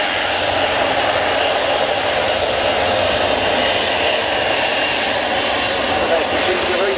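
Military aircraft engine roaring steadily at the RIAT 2014 airshow, a loud continuous broadband jet-like rush that holds without a break throughout.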